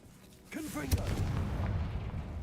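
A Confringo blasting spell in the Hogwarts Legacy video game sets off one sharp, booming explosion that is followed by a sustained rumbling roar, with warbling tonal game sounds just before it.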